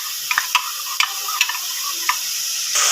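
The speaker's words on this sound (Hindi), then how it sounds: "हमारा चिकन बहुत अच्छे से फ्राई हो चुका है" Boneless chicken sizzles loudly in a karahi with a bright, hissing fry. A spatula stirs and scrapes against the pan in several quick, close knocks, and the hiss swells slightly at the end.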